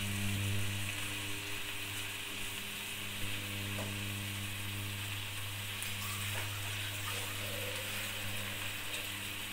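Chicken broth poured into a pot of tinga sauce, producing a continuous sizzling, bubbling hiss over a steady low hum from kitchen equipment, with faint clinks scattered throughout.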